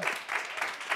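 Studio audience applause on a French TV show, a brief burst of dense clapping that swells and dips, moderately loud.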